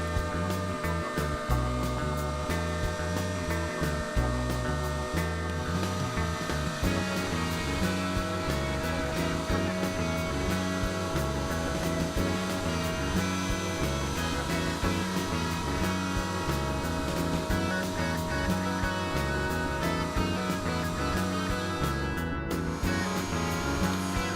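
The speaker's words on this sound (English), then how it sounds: "Here we're cutting out the control cavity in the back." A CNC router cuts the control cavity into the back of a guitar body, a steady loud machining whine with busy tonal bands and rhythmic fluctuation running continuously throughout.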